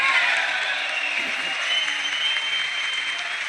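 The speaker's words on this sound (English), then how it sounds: "And after a long applause from half of the room" Long applause from part of a political audience, a steady wash of clapping that runs unbroken through the whole stretch at an even level.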